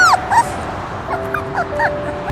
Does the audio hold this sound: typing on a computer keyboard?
no